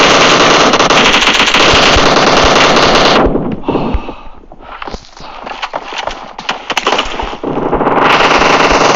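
Rapid automatic gunfire in a PUBG team deathmatch, loud and dense bursts that drop away briefly midway before resuming at full intensity.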